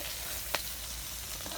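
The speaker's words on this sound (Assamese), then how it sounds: "মাছখিনি ভাজা হৈ গ'ল মিলাওঁ এতিয়া ধুনীয়াকৈ" Fish frying in a pan for an Assamese sour fish dish, giving a steady close sizzle throughout with one brief clink of a utensil partway through.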